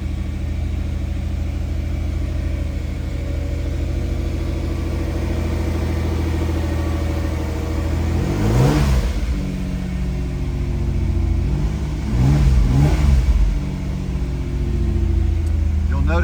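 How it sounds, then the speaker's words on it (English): A 1988 Pontiac Fiero Formula engine sits at high idle just after a cold start, humming steadily up close. Two short blips of the throttle break the even drone before it settles again. "we're still in high idle for a minute here"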